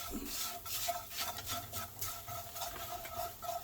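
Meatloaf ingredients with added garlic are stirred and mixed by hand, giving a steady, soft scraping and rubbing sound close by with no speech.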